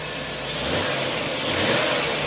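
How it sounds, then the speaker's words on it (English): The engine of a Ford Taurus is revved briefly, its hum rising and swelling slightly over about two seconds, heard up close with no speech. "you give it a little rev"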